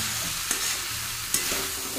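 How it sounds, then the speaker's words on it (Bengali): Pumpkin, Malabar spinach and potatoes are stir-fried in a pan, giving a continuous close sizzle with two sharp scraping strokes of the spoon and no talking. "কুমড়ো পুঁই শাক আলু কষাই করছি।"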